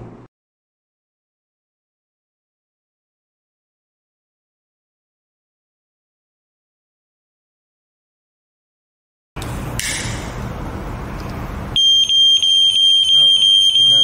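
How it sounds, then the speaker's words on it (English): Silence, then a burst of noise followed by a loud, steady electronic alarm tone from a conventional UV flame detector and fire alarm panel during a test, sounding continuously and close for the last couple of seconds. "The detector alarms, the panel also alarms"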